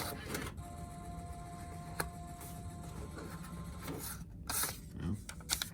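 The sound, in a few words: Genmega Hantle ATM receipt printer printing cassette total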